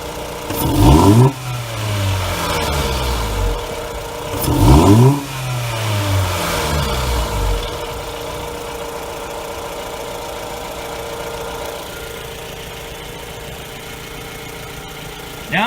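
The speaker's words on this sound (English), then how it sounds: "There you go, you're going to hear the intake." A 2018 Jeep Renegade with a performance intake revs sharply twice, each loud rise and fall heard up close, then a briefer third blip before settling into a steady idle hum.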